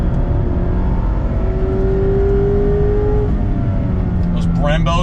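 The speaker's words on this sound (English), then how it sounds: "Heel toe downshifting is perfect in this thing." A 2021 Mazda MX-5 Miata RF Club is driven hard with Brembo brakes, its engine droning loudly and steadily inside the cabin. Pitch sweeps mark heel-toe downshifts under braking, and a voice briefly chimes in near the end.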